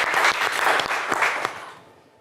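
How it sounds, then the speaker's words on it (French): A TV game show studio audience bursts into loud, close applause that fades out within about two seconds. "on vous applaudit très très fort, Sabine, et tous les quatre d'ailleurs"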